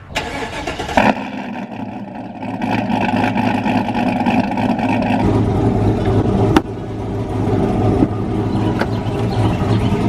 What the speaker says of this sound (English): I don't know how you ever have a bad day with a cold startup like that.